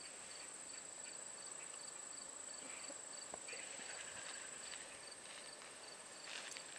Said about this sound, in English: It's a lovely little cicada.